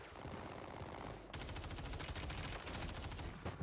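Rapid automatic fire from a ground-loot gun in Call of Duty Warzone, on Rebirth Island: a steady, fast, even stream of shots, briefly paused before a second long burst, loud and close with no talk.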